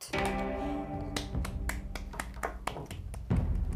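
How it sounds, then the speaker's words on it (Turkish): Clapping from people at a dinner table on a Turkish cooking competition show, sharp hand claps repeating over a steady backdrop of music and room sound. "Ben de alkışlıyorum."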